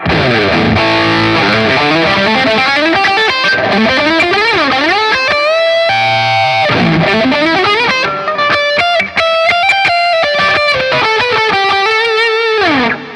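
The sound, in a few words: electric guitar with distortion effect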